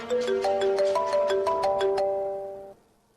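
A phone ringtone plays a bright melodic tune of repeated chiming notes for about two and a half seconds, then cuts off abruptly, with no voices over it.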